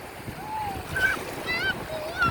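Sea waves wash steadily at a beach in Cha-am, Thailand, forming a constant soft roar beneath high children's voices and nearby talking.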